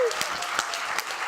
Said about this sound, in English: Can we have the last biggest round of applause for Inga,